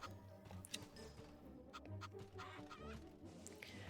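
Chickens cluck and squawk on a farm level of the MediEvil Resurrection game, several birds chattering close together in uneven bursts with game sounds beneath and no talk.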